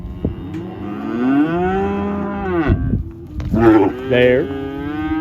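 Weaning calves moo loudly and close by while cow dogs work them. Several long, drawn-out bawls with rising and falling pitch come one after another, with no talking.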